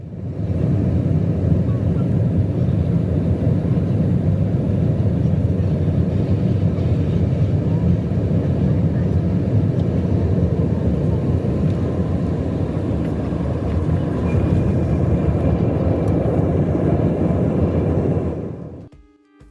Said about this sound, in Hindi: ये फुटेज एक पैसेंजर ने सैन फ्रांसिस्को लैंड कर रही फ्लाइट से लिया है।